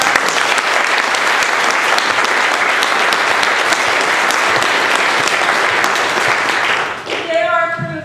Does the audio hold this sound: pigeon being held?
no